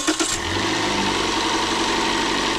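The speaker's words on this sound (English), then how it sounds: "The starter's kind of sticking when it's really cold, and has a bit of a cold startup rattle." A 2013 Toyota Corolla engine starts cold with a short cranking burst, then settles into a loud, steady idle with a faint rattle, close by and with no talking.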